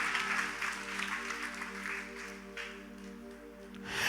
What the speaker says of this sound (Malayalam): നിങ്ങളൊന്ന് കൈയടിച്ച് കർത്താവിനെ സ്തുതിച്ചേ.